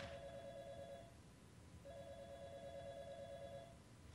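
Telephone in the Gmod horror map Death House rings in two long bursts separated by a pause, faint against a low hiss, with no talking.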